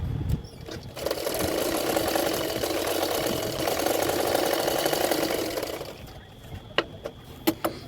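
A sewing machine stitches the lining fabric of a double katori blouse. It gives one steady, close whirring run of about five seconds, then stops, followed by a few sharp clicks and taps.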